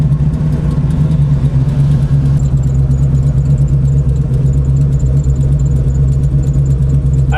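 A 610 HP 1970 Chevelle hot rod engine idles loud and close, a steady deep lumpy rumble that holds without revving.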